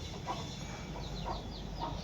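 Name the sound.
chickens clucking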